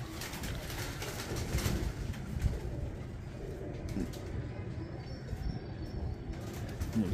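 Pigeons in a breeder's loft coo softly amid a busy, noisy background, with occasional wing flutters and faint chirps throughout.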